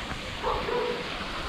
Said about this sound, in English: The dogs are barking at me.